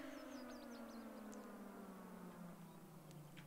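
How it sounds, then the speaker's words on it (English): A siren in the video game When The Darkness Comes wails with a slowly falling tone, faint and steady, while a few short chirping sounds flicker above it. "That siren's really loud."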